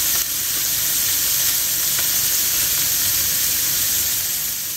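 Smash burger patty on a hot griddle giving a loud, dense, continuous sizzle close up with a steady hiss throughout and no talking.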